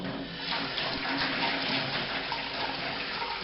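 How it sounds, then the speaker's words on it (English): Sparge water from a sparge arm drains into a cut-down keg brew kettle during all-grain German Pilsner brewing, a steady close splashing rush of liquid pouring without pause. "there's our drain off into the kettle."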